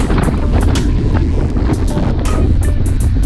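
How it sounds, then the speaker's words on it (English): Strong wind buffets the microphone during a group bicycle ride heading into a headwind up a gradual grade, a loud continuous roar with gusty low rumble throughout and no talking. "that's not easy because that wind is out here"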